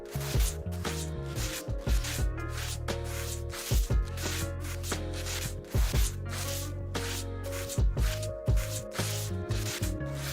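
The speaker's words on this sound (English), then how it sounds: "we're literally grating this car to death with P40 sandpaper" Coarse P40 sandpaper rubbing across a car body in Car Detailing Simulator, a steady, close abrasive scraping in repeated strokes with brief pauses, with no talking.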